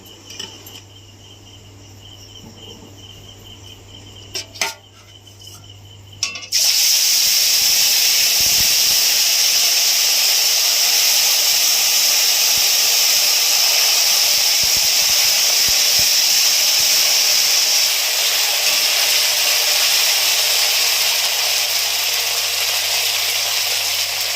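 Ginger and cumin paste is tipped into hot oil in a kadai and breaks into a loud, close, continuous hiss that holds steady for nearly twenty seconds after a quieter start.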